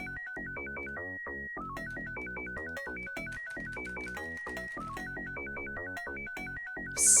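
A Nokia-style ringtone plays in a Friday Night Funkin' mod, a bright, fast, looping electronic melody of short stepped notes that runs steadily for several seconds before a sudden burst at the end.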